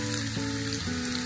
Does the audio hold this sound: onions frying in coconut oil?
yes